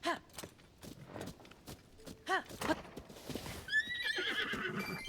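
A horse neighs and whinnies in the video game Tears of the Kingdom, with hoof clip-clops and scattered game sounds around it, the drawn-out whinny rising near the end.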